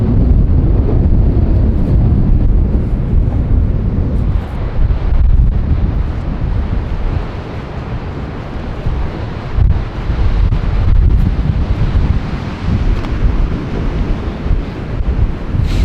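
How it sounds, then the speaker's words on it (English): Strong gusts buffet the microphone at Reynisfjara black sand beach in Iceland, a loud continuous roar with breaking surf mixed in underneath. "today is very windy."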